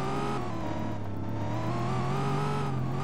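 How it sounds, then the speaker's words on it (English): Car in the Roblox Greenville video game driving steadily with a continuous engine drone and revving, loud and close, alone without talk. "I swear I just heard someone's car or something."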